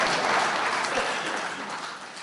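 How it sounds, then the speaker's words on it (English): An audience claps steadily at a motivational seminar, a dense, even wash of applause that fades slightly over a couple of seconds. "I think we need to applaud that."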